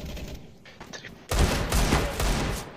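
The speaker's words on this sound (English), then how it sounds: "He fires 4 bullets and gets 4 kills." Gunshots in the video game CS:GO, a few sharp, sparse reports followed by a loud close burst of rapid fire, with faint talk at the start.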